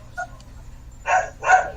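A dog gives a faint yip, then two louder, close barks in quick succession.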